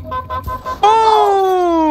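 In the Killer Klowns From Outer Space video game, a car horn sounds loudly, a sustained tonal honk after a few short chopped tones, close and clear.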